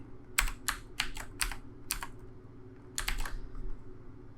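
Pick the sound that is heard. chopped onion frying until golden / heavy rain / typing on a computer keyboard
typing on a computer keyboard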